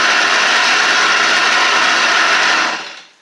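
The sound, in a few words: Stihl weedeater engine running after carburetor replacement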